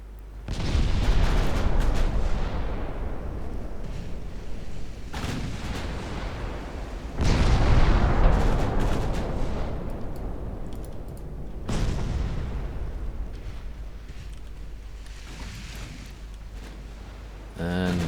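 Heavy naval gunfire rolls out in a naval battle game as a cruiser squadron engages, surrounded, with booming salvos at about 0.5, 7 and 12 seconds swelling over a continuous low rumble and battle noise.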